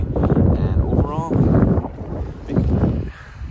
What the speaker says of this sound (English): it's not cold, it's just really windy today